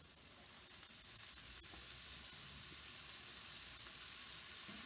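An egg and cheese breakfast hash sizzles in a pan, a soft, steady frying hiss that stays even and unbroken throughout.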